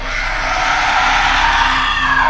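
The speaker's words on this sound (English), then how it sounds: "Then, horrible, soul-tearing screams." A harsh, sustained scream-like wail fills the moment in a Japanese ghost story about the slit-mouthed woman, loud and continuous with a noisy, tearing edge for a couple of seconds, no speech over it.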